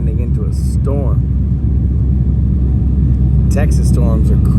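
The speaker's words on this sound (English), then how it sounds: "Yo, it looks like we're landing into a storm." Steady loud rumble inside an airliner cabin during a descent into a storm toward Dallas, Texas, with a couple of short chime tones over the drone.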